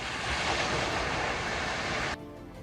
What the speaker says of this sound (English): the silence of the creek was punctuated by the sound of the burning platform.